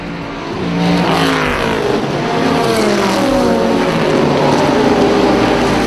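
Historic Formula Junior and other vintage race cars roar past at Watkins Glen, a loud continuous engine wail with shifting pitch as several cars sweep by close to the track.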